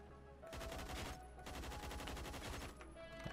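Assault rifle fire in Phantom Forces: three sustained bursts of rapid automatic shots, dense and rattling, separated by short pauses, with no talking over them.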